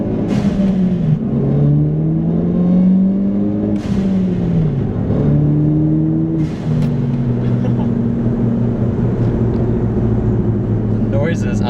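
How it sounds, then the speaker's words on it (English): A big-turbo Ford Focus ST engine with a stage 3 clutch revs up and down in a deep, throaty drone, holding loud and close throughout with a few brief dips between pulls. "The noises on this car are awesome."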